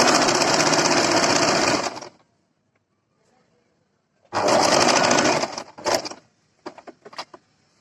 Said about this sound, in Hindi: दोनों कपड़ों को ढीला छोड़ते हुए और हम इस पर सिलाई लगा देंगे।